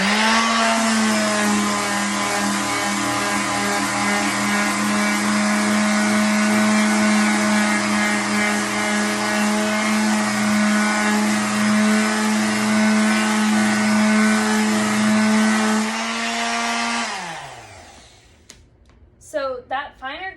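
A finer-grit power tool buffs a surface, giving a loud, steady motor whine with a strong hum that holds for about seventeen seconds, then winds down and stops, followed by a few faint handling knocks.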